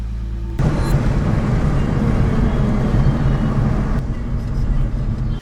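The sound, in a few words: Lexus IS300 car engine running while driving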